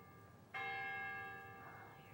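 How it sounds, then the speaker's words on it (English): Church bell strikes once and rings on, a bright metallic tone with long sustained overtones slowly fading, heard at a distance in a quiet setting. "Let's go hear the bells."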